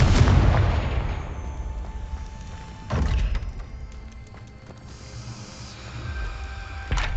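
Confringo fire spell explosion in the Hogwarts Legacy video game: a loud booming blast up front that hisses away, then a second sharp burst near three seconds and a fainter crackle near the end.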